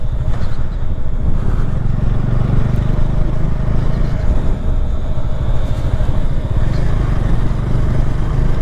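Motorcycle ridden on a mountain road in Spiti Valley, its engine a steady loud drone close by with wind rumble, running continuously without talk.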